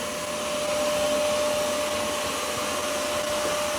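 An ECOVACS DEEBOT T90 PRO OMNI robot vacuum runs loudly in maximum mode, about 70 dB: a steady broadband whoosh with a constant whine, close by and unchanging throughout.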